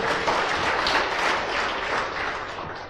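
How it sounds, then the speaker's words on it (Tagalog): Steady, full applause from a church congregation during an Ilocano-language sermon, continuous hand clapping filling the room at a close, even level for its whole length, with no talk over it. "Palakpak kaya po Diyos."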